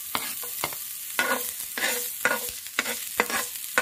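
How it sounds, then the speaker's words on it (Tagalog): Ginger sizzling in a pan being browned for squid adobo, a loud steady fry broken by repeated sharp scrapes and clatters of a utensil stirring at a quick, uneven rhythm. "Pa-brown lang natin yung luya."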